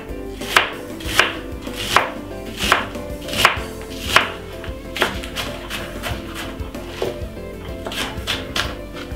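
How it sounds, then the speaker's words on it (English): A knife chops a white onion finely on a board, a steady series of sharp close thuds, roughly one or two per second, evenly paced throughout. "Cut up my white onion very finely."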